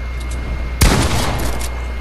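A single sharp gunshot burst in the Fortnite video game, loud and close after a steady low background hum, trailing off quickly.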